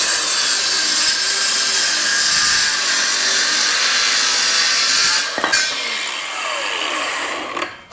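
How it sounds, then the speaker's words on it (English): Circular saw cutting into a sanding block for Jeep J10 body work, a steady high grinding whine for about five seconds, then it changes pitch and tails off with scraping. "So just take your circular saw and just dig in there."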